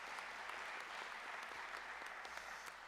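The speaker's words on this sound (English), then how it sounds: "I just want to give another huge round of applause to everyone who's a part." An audience at a public service scholar graduation ceremony gives a round of applause, a steady, even wash of many hands clapping with no talk over it.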